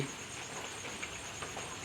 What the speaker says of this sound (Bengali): বাইরে এত বৃষ্টি হচ্ছে বন্ধুরা, এত বৃষ্টি।